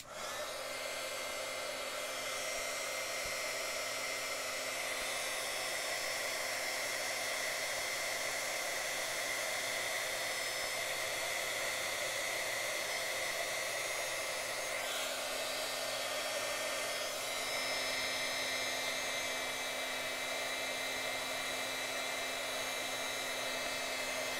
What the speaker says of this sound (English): back to our heat tool